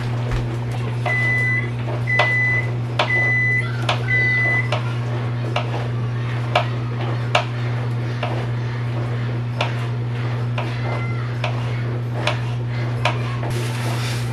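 A microwave oven heating leftover corn in a home kitchen: a steady low electrical hum runs throughout, with a few short beeps near the start and scattered clicks and knocks over the top.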